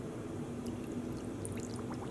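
Water poured steadily into a solar dye pot of blue dye water for yarn, a continuous low splashing wash close by with faint trickles on top, no voices.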